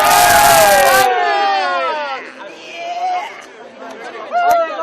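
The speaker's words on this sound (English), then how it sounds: "Bit of cheering for me. Come on. Come on!" Football crowd at an NPL Grand Final between Sydney United 58 and Edgeworth Eagles, opening with a loud burst of cheering and shouting that fades into murmured crowd chatter with scattered calls and a sharp whoop near the end.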